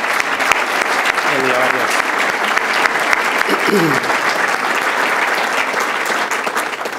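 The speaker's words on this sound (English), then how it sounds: "I want to give you a round of applause" A room full of people applauds the City of Chicago Treasurer's staff, steady dense clapping that holds for the whole stretch, with a voice speaking briefly over it.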